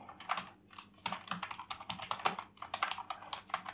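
Close, brisk typing on a computer keyboard as text is entered, with rapid clustered keystrokes in bursts and one brief pause near the middle, with no voices.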